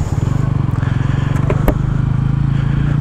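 A 2025 Bajaj Pulsar N160 motorcycle engine running up close with a bassy, thumping exhaust note, its even rapid pulses steady and loud, with a slight lift in revs partway through.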